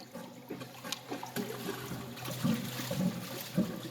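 Fresh water pouring and gurgling into a blocked toilet bowl, a continuous trickling rush with bubbling surges, fairly close and alone, without voices.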